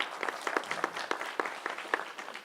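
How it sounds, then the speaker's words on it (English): An audience at a panel discussion forum applauds, with a dense patter of hand claps continuing steadily throughout. "let's give him a round of applause"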